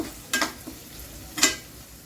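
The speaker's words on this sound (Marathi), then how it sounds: "आता का कांदा छान असं परतून घ्या" Chopped onions are sautéed in oil, with two distinct scraping stir strokes of a spoon against the pan over a faint, soft sizzle.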